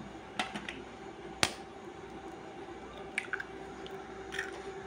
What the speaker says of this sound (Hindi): आतां हांव घेता हेंचें तांतीं फोडटा सगळीं तितून घाता